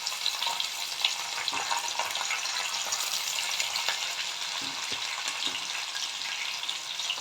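Ginger and onion frying in a pan with cumin seeds, a steady close sizzle with faint stirring scrapes throughout, no voices.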